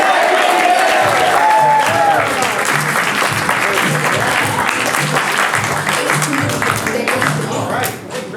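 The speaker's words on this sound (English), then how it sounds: "let's all yell, get back in here and break into loud applause" An improv theater audience yells and bursts into loud, sustained applause with cheering, dense and close for the full stretch before fading slightly at the end.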